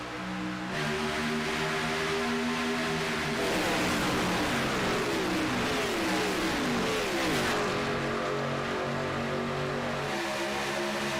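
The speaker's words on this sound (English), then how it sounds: "those cars sound good out on the speedway" Race cars speed around the Talladega superspeedway with a loud, continuous roar as several engines drone past and pitch shifts sweep across the pack.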